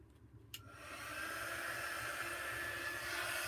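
A craft heat tool switches on with a click and quickly rises into a steady, hairdryer-like whoosh of blowing air that holds constant at close range.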